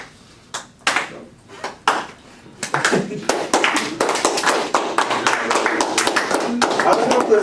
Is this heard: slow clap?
yes